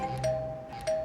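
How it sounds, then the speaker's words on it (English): A doorbell chimes twice in quick succession, a pair of bright ding-dong tones heard faintly from inside a home with no one speaking. "This is how people literally have to ring the doorbell."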